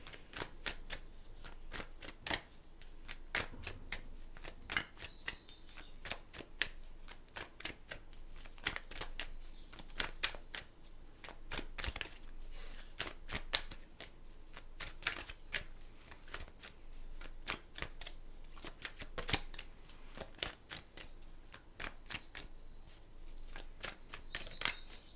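A vocabulary card deck shuffled over and over in a quiet room, with dense crisp riffles and flicking snaps that come in close bursts for the whole stretch, and no talking.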